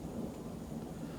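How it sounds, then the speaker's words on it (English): Low, steady rumble of distant thunder rolling on without a break for the whole moment, fairly faint, with no voices over it. "hear that thunder"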